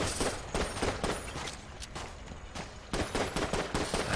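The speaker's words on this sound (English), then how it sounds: "we get the Eye of the Beholster gun. Which I suppose I will use, because it is a decent weapon." The Eye of the Beholster gun fires in The Gungeon, a rapid stream of clustered shots in bursts, loud and close, separated by a short lull.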